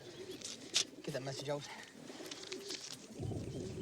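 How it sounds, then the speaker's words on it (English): An English carrier pigeon gives soft, throaty coos in a short rolling series, close by, mixed with a man's speech and rustling movement. "This is a good little English carrier pigeon."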